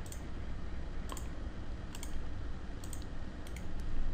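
A computer mouse's middle wheel button clicks about five times at irregular intervals while someone works in 3D CAD modeling software; the sharp, close clicks sit over a steady low background hiss.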